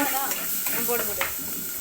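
Crushed pepper and cumin sizzle and hiss in a pan while being stirred, a close, steady frying sound with light scraping of the spoon.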